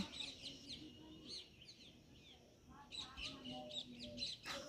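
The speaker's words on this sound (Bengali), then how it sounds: "ওই যে একটা টিয়া পাখি এক্ষুনি উড়ে গেল ওদের আওয়াজও শোনা যাচ্ছে" Harsh parrot calls and squawks in short bursts, with quieter chirps between them and a soft hum of background noise.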